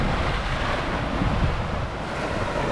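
Wind buffets the deck of a ferry boat at sunrise, a steady broadband roar with gusty swells, close and constant, with no talking.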